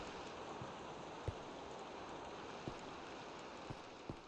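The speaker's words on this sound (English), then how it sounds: "It's raining outside." Rain falls outside in the video game Minecraft as a faint, steady hiss, with a few soft taps scattered through it.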